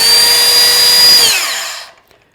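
A Metabo KT 18 LTX 66 BL cordless plunge-cut circular saw runs loudly with a steady high whine, then switches off and winds down to silence over about a second.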